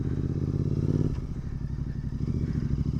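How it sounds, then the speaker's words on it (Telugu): A Royal Enfield GT650 motorcycle with a loud aftermarket exhaust idles at low revs, a deep, steady, throbbing rumble close by that shifts and settles slightly partway through, heard alone without talk. "ఒకసారి దీన్ని లోయర్ రెవ్ నుంచి స్టార్ట్ చేద్దాం"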